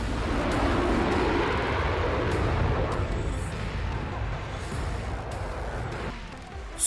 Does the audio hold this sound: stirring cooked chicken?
no